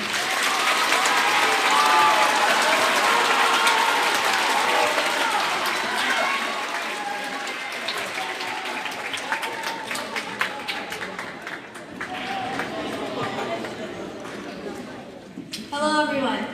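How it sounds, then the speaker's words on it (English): School Veterans Day assembly audience giving a round of applause, dense loud clapping from a large crowd that gradually thins and fades, with a voice speaking near the end. "Why don't you give her a round of applause?"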